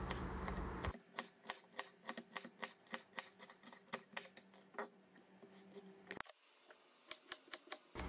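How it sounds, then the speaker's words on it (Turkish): Fresh green beans thinly sliced with a knife on a board, a quick regular series of crisp chopping taps, close and quiet, with no talking. "Şöyle ince ince fasulyeleri kesiyorum."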